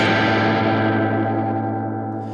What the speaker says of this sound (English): I've got kind of a high reverb level.